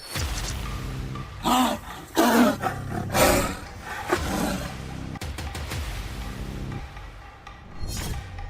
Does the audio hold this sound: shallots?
no